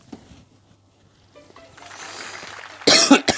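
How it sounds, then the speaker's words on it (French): A single person coughs, first a short soft cough, then after quiet stretches and faint shuffling a loud, harsh burst of coughing up close near the end, during a Super Mario Maker 2 play session. "Je tousse encore"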